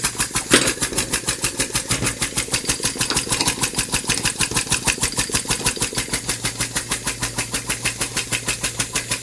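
A small compressed-air piston engine running on about 20 psi, chugging in a fast, steady rhythm of evenly spaced pulses throughout, close and moderately loud with no talk.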